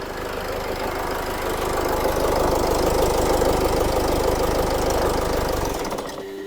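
A car engine idles steadily with a low, even rumble and faint knocking, running on ECU substitute values for a faulty airflow meter, before stalling near the end.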